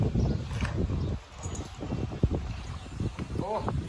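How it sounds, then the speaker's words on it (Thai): Outdoors near elephants, wind buffets the microphone with a constant low rumbling roar, mixed with rustling and a voice speaking Thai close by. "ขออภัยในเสียงลมด้วยนะครับ"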